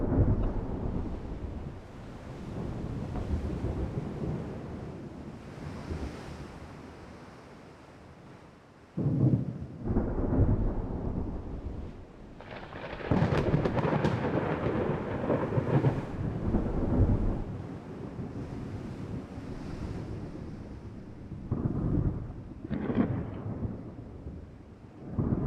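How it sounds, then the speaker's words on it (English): Thunderstorm in the naval warship game Ultimate Admiral Dreadnoughts, with deep rolling thunder rumbling over steady rain and wind, swelling into several loud, long crashes and fading back between them. "we waited out the storm apparently"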